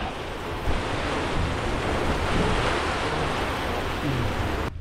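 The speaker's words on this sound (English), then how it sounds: "wind is picking up." Wind blows hard outdoors on Mt. Washington, a dense, rushing roar with gusty buffeting against the microphone, loud and unbroken from start to finish, with no voices.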